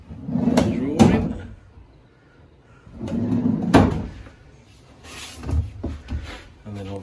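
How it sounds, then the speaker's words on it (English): A kitchen drawer in a narrowboat fit-out slides and knocks shut with several distinct wooden thumps and rattles, spaced out across the clip with quiet gaps between them. "Drawer in."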